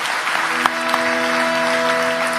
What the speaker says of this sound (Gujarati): અમારા સાજિદા મિત્રોને, અમારી ટીમને એક વખત જોરદાર તાળીઓથી વધાવો